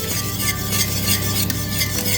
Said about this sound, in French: on ajoute le mélange sucre-pectine et on mélange le tout